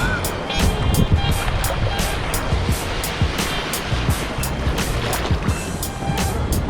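Waves washing ashore at St Pete Beach in Florida, a continuous broadband surf wash with repeated sharp gusts of wind buffeting the microphone.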